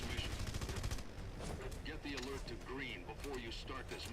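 Rapid gunfire in Red Faction Guerrilla rattles in a fast burst for about a second, then someone talks over lingering background noise.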